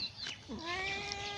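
A cat gives one close, clear meow that rises and then slides downward, drawn out for about a second against a quiet background.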